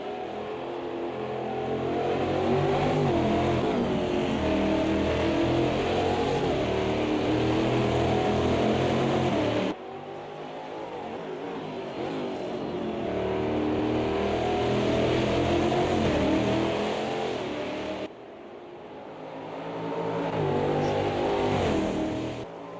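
Race car engines roar continuously during an Interlagos sim-racing endurance race of P1 and GT4 cars, with a loud engine note that rises and falls through gear shifts and briefly drops away twice.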